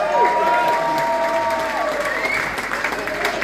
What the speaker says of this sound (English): Round of applause for Rob, please.